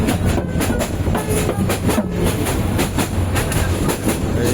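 A passenger train from Mymensingh to Chattogram in Bangladesh, pulling into Bhairab Bazar station: a loud, steady rumble from on board with a regular clickety-clack of wheels over rail joints.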